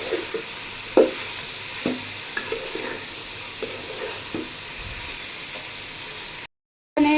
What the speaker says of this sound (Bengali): আমি গাজর কুচি, বরবটি কুচি, রসুন কুচি, মরিচ কুচিগুলো সবগুলো উপকরণ সুন্দরভাবে ভেজে নেব।